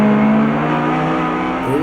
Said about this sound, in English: Little taily in the Nissan into the right-hander.